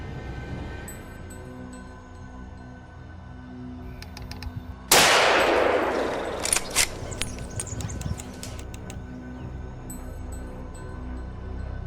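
A single loud gunshot rings out during an early-winter wild boar hunt, a sudden blast about midway that decays over a couple of seconds, followed by scattered clanks against a quiet outdoor background.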